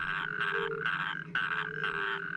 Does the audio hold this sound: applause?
no